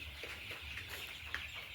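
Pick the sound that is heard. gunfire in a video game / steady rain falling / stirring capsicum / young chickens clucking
young chickens clucking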